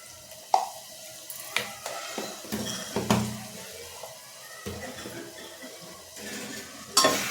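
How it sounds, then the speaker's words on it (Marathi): Turmeric stirred into a sizzling tempering for soybean khichdi, hot oil crackling steadily beneath repeated close spoon scrapes and clinks on the pan, with a sharper knock near the end. "छानपैकी मिक्स करून घ्यायची हळद."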